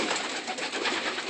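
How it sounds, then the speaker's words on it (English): A brief burst of pigeon cooing from young birds in a loft, soft and muffled within a hissy background, with no voices. "It's one of his pigeons also."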